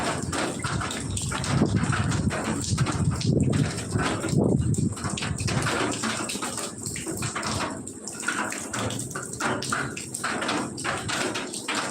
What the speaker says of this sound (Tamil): மழை வந்து இருக்கு அந்த மழை தண்ணி ஓட்டில் பட்டு சவுண்டு வருது